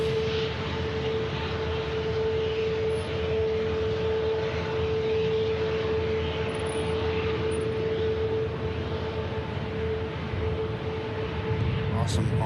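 Aircraft touching down on runway 05 right at Manchester Airport, a steady distant jet roar with a sustained whine, heard alongside ongoing background chatter.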